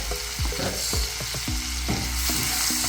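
Garlic butter clams with parsley being stirred in a hot pan, steady sizzling with repeated scraping strokes of a utensil roughly every half second, close and clear.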